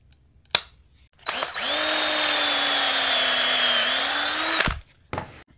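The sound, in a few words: drilling a pocket hole in pallet wood with a jig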